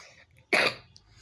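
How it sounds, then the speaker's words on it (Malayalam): A single short, sharp cough breaks a quiet room, fairly close and over in about half a second. "ചുമയാണ്."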